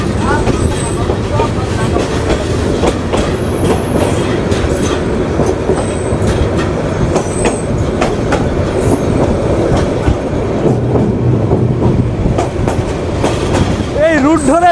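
Kurigram Express passenger train leaving Rangpur, running steadily on rails with a loud continuous rumble and wheel clatter, and a brief wheel squeal or horn-like tone near the end.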